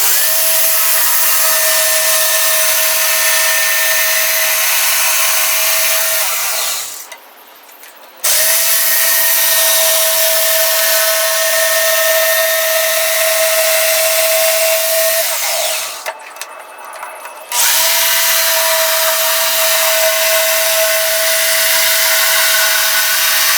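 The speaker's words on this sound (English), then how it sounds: "we're gonna cut this piece out" A power saw cutting out a piece for a flats skiff boat transom, a loud close steady whine in two long passes with a brief pause between, no talking.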